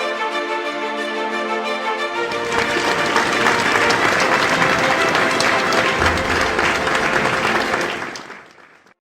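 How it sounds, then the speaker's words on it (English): Steady, loud applause from an awards-ceremony audience celebrating a winning team, sustained for about eight seconds before fading out, with a held musical tone underneath at first. "let's give a big round of applause for South Zone."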